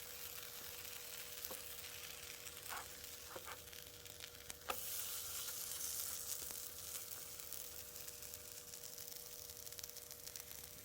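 Pupusas, stuffed with cheese and loroco, cook on a griddle with a steady, even sizzle that runs throughout, punctuated by a few faint clicks and taps.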